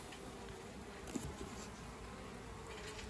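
Honeybees in a strong, healthy nuc colony buzz with a steady, even hum throughout, close and moderately loud, with a few faint knocks partway through and no talking.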